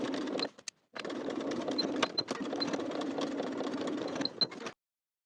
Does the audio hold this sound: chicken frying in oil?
no